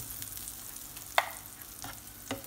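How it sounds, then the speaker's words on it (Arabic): Butter melting in a frying pan, a soft, low sizzle heard close by with two brief clinks of a utensil against the pan, quiet and without voices. "غتشدو واحد المقلة وديرو فيها شوية ديال الزبدة"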